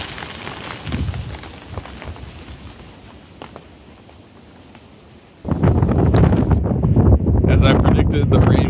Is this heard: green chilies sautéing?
no